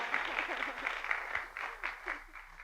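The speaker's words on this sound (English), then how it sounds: "one more round of applause for the maid of honor" Wedding guests at a reception venue applaud the maid of honor, a faint, fairly quiet patter of clapping with irregular louder hits and a little voice mixed in.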